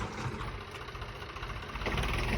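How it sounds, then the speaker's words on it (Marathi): A tractor engine running nearby, a steady low rumbling drone with faint vibration, continuous throughout at moderate level. "ते ट्रॅक्टर चालवलं आहे"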